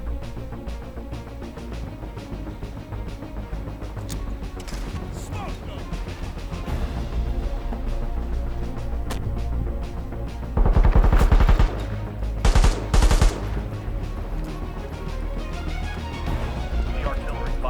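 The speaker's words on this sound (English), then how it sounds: "The artillery fire incoming." Sustained gunfire and bursts of machine-gun fire in a World War 3 video game battle, with heavier artillery-like blasts around the middle, dense and continuous under game radio chatter.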